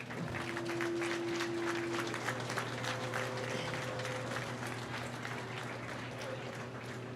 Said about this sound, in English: why don't we give these exhibitors a round of applause